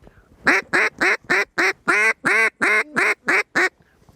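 A duck call blown by a hunter in the field gives about ten loud, evenly spaced nasal quacks in a steady cadence, close up and alone, with no talk.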